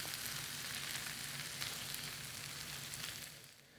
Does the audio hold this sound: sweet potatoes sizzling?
yes